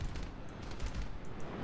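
Aircraft cannons on a La-200 jet fighter fire in War Thunder, a rapid, steady stream of low, thudding shots that carries on without letup for the short burst.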